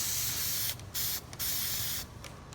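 Short aerosol bursts of gold spray paint land on the label of a Rawlings Heart of the Hafe PRODJ2 baseball glove. Three close, steady hissing sprays come in a row, each separated by a brief pause.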